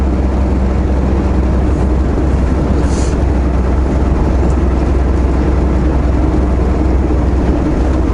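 A Kenworth truck rumbles past with a steady, loud low-end engine roar that stays heavy and continuous throughout, with no talking over it.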